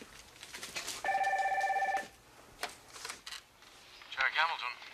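A telephone gives one short, bright electronic ring lasting about a second, close by. Speech and movement noises come before and after it.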